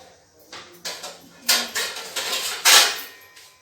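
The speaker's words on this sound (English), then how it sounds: "I have to cover it with the use of lid." A metal lid goes onto a pan set inside a cooker, with a few scraping clanks and a louder bright clatter near the end, close and with no talking.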